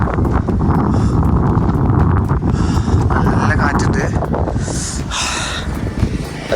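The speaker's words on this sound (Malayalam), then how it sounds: "നല്ല കാറ്റുണ്ട്." Strong wind buffets a microphone on a high mountain pass near Khardung La, a continuous loud roar and rumble with gusty rustling throughout, close and unbroken.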